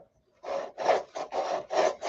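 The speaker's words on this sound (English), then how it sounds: "We're just sanding the glue off so it sits flat on the glass." Rhythmic back-and-forth rasping strokes of a model part being sanded flat on glass to remove glue, about five close, even strokes after a brief quiet start.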